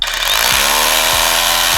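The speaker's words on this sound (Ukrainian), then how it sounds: "Ви можете чути, як він плавно набирає обороти." A Dnipro-M cordless rotary hammer soft-starts and spins up smoothly, its loud motor whine rising steadily in pitch and holding a dense, continuous buzz close to the listener.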